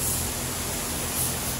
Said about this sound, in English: While Chad's spraying clear still